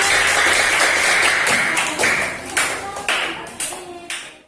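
A small group in a teachers' workshop session in Bireuen, Aceh claps loudly and steadily, the applause thinning into a few scattered claps as it dies away.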